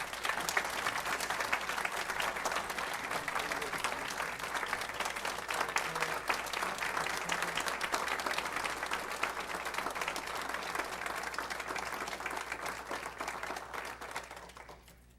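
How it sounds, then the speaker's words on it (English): Sustained audience applause fills a county board of commissioners meeting room, loud, dense clapping from many people holding steady for about fourteen seconds before tapering off at the end. "I think everybody deserves a good round of applause"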